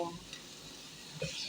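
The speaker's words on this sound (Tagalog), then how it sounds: "Haluin natin ng maigi." Golden-browned chicken pieces are stirred in a hot pan, soft sizzling under light scraping and clinking of a utensil against the pan, with a couple of short knocks near the end.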